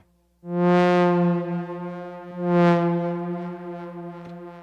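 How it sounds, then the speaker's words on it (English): A buzzy synthesizer note holds steady while a repeated echo swells back partway through, the sound lingering and decaying. "Let's see what it sounds with some delay."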